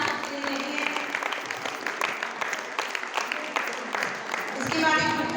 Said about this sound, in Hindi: जोर से ताली बजाएंगे बच्चों के लिए